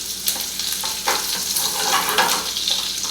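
Chopped vegetables frying in a pan for an omelette filling, a steady close sizzle with occasional louder crackles and stirring, continuous throughout with no talking.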